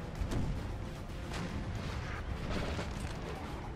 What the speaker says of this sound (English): Artillery trying to drive them back.